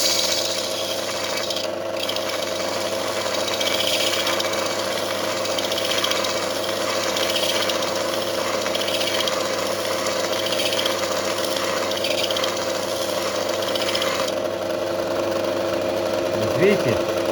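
A bench grinder runs continuously while a screwdriver, chisel and cold chisel are sharpened, giving a steady motor hum with a faint grinding hiss throughout.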